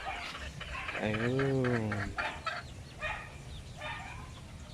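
Sweater breed chickens roam a backyard farm, with a nearby rooster crowing once and clucking around it, mixed with faint outdoor background noise and a brief voice.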